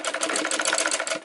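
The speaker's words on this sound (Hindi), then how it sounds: "मशीन इस तरह से चलाते हुए।" An electric sewing machine stitches fabric for a roti cover, running in a fast, steady, close-up rattle of needle strokes with no voices.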